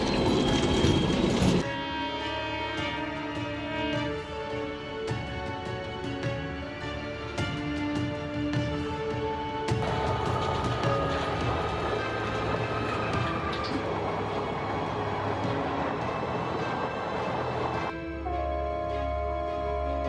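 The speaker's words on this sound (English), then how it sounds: "in the distance, the train horn sounded, growing louder and closer" A freight train at terrifying speed, hauling dozens of cars across open plains, rumbles steadily past while its horn blasts in long sustained tones throughout, loud and close.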